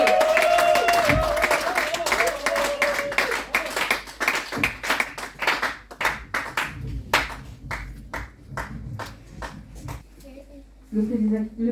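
A congregation at a Sunday church service claps in acclamation. Sharp, scattered claps grow more rhythmic and insistent, with sustained tones and voices early on, before thinning toward the end.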